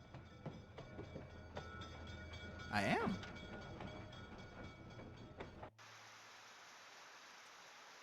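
A train ride in the video game The Deed rolls along with a steady low rumble and faint rhythmic clatter, a voice briefly speaking midway, before the scene cuts to flat hiss.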